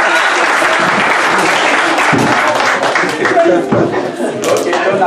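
An audience at a Malian association presidential election meeting in Washington claps loudly and densely, with scattered chuckles and voices mixed through the applause.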